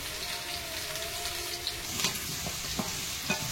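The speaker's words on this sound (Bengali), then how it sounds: "শুধু লবণ আর হলুদ দিয়ে ভাজে নেব।" Potatoes frying in a pan with salt and turmeric give a steady close sizzle with occasional sharp spatters and stirring scrapes throughout.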